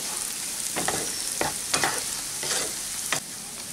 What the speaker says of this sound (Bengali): এক দেড় মিনিট একটু ফ্রাই করে নিচ্ছি তেজপাতা এলাচির সাথে এই গোবিন্দভোগ চালটা মিশিয়ে